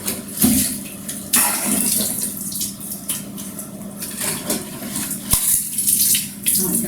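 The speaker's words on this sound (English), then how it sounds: "you then use the rinse water to rinse all the walls" Rinse water splashes and runs down bathroom walls during cleaning, a steady close wash of water with intermittent sharper splashes and a faint voice in the background.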